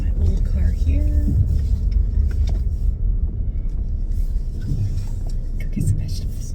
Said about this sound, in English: let's park my old car here